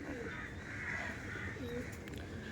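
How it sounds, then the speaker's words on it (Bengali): Chini Kaldom pigeons of the Kolkata Kaldom breed coo softly at close range, low murmuring calls rising over a faint background hiss. "এই চিনি কালদম তো চিনি কালদমই দেখুন"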